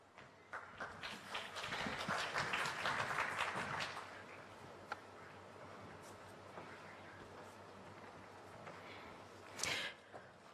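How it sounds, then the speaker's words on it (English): Applause at a Europe-Uganda business forum as the managing director of Total Uganda walks to the stage: a dense, steady patter of clapping from a crowd, swelling for about four seconds then thinning to a few scattered claps. "Can he have a round of applause, please, as he gets to the stage?"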